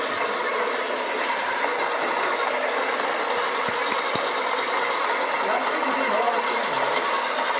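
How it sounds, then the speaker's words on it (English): An Acaia Orbit coffee grinder motor runs at low RPM and stalls, giving a steady, loud mechanical whir that drones on without a break, with only a few faint clicks. "I'm using a low RPM. It's stalling."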